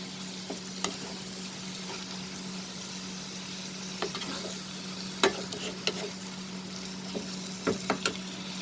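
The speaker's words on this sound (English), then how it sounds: "just mix everything together" Prawn keema fries in a pan with a continuous soft sizzle while a utensil stirs and mixes it, giving scattered scraping clicks and taps, close and quiet, with no talking.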